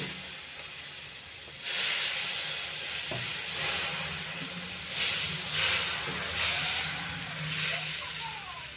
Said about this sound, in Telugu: అలానే ఇంకో దోశ వేసుకుందామండి